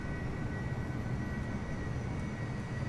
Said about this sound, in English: I do like how it has the sound effect from the APU